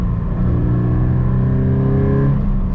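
A Subaru BRZ with stock exhaust accelerates hard on a mountain road, its intake note giving a loud, continuous rising engine drone heard from inside the car, the pitch climbing smoothly with no talking.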